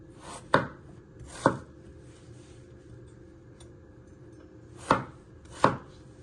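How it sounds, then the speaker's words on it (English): Potatoes chopped into pieces on a board for a pork stew, four sharp knife strikes in two pairs separated by a long pause, close and clear with no talk. "you just want to chop them into pieces"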